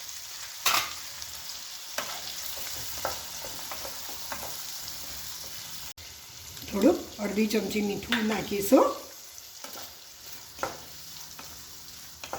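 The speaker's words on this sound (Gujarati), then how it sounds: "કાંદા પણ સંતળાઈ ગયા છે એટલે આપણે એમાં ટામેટાં ઉમેરીશું" Chopped onions and tomatoes sizzle in a pan for ringan nu bhartu, with scraping stirs and clinks of the utensil against the pan while someone talks.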